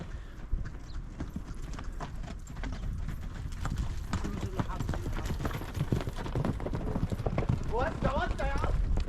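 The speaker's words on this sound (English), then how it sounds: "Trying to stay out of the way of the camels and horses that ride through this way." Horses' hooves clip-clop steadily past on a path near the Khentkawes town ruins in Egypt, a quick irregular clatter close by, with people talking throughout and a faint whinny near the end.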